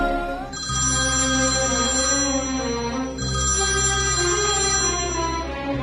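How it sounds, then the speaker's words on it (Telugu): A telephone rings out loud and steady in two long repeated bursts, a call placed to the electricity lineman during a power outage after a storm knocked a tree onto the line. "లైన్ మెన్కి ఫోన్ చేస్తాం"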